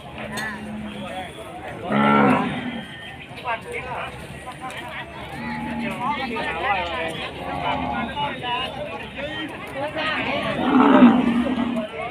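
Cattle and buffalo moo at a busy Sunday livestock market in Thailand: several low, drawn-out calls rise over steady crowd chatter and background bustle.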